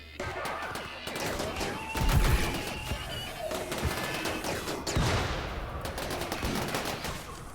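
Colonists open fire during a RimWorld battle, with repeated gunshot bursts and rapid volleys crackling throughout, a heavier thump near the middle, all fairly loud and continuous.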